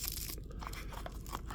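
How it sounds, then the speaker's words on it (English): Wrapping paper crinkles and tears in close, busy bursts as Case XX pocket knives are unboxed, a crisp continuous rustle with no talking. "I know that paper's probably making a lot of daggone noise"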